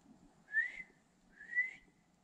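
A person whistles in a forest, giving two faint rising whistle notes about a second apart over quiet outdoor background.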